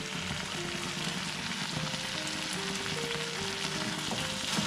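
Madurai-style mutton chukka frying dry with green curry leaves and pepper, a steady close crackling sizzle holding evenly without a break.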